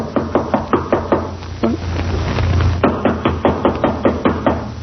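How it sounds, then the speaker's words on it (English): Firm knocks rap on a door in quick runs of several beats, pausing briefly before a longer burst of rapid knocking. "Well, try knocking."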